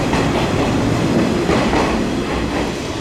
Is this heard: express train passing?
yes